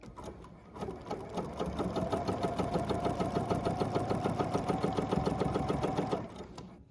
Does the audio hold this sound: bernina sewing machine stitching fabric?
yes